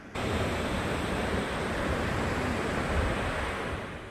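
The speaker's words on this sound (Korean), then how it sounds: "이곳은 바로 삼부연 폭포입니다." A steady, dense roar of Sambuyeon Falls, a 30 m waterfall in Cheorwon, Gangwon Province, South Korea, falling water loud and close, constant from start to finish with no voices.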